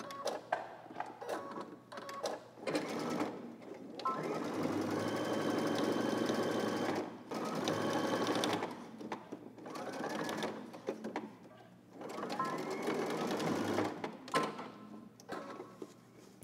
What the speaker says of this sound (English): now we're gonna sew the other side the same exact way, starting from the bottom and going up